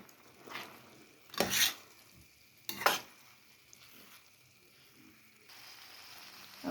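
A spoon stirring chilli chicken sauce thickened with cornflour slurry in a pan, a few short scraping strokes over a quiet low simmer.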